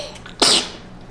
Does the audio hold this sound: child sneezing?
yes